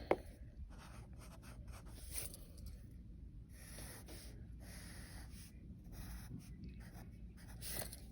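Pencil scratches across paper in short, irregular strokes while an outdoor scene with a figure and grass is sketched, faint and close, with no talking.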